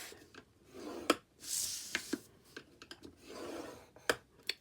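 A scoring tool is drawn across cardstock for a box lid, giving soft raspy strokes broken by several sharp clicks and taps, all close and fairly quiet with no talking.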